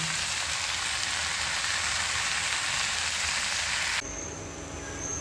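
Chicken mince and grated potatoes sizzle in a pan, a steady hiss of frying that drops to a quieter crackle near the end.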